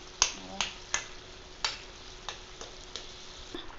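A pot of goroi fish curry with chayote boils on the stove, giving a series of soft, irregular popping bubbles close by and no speech.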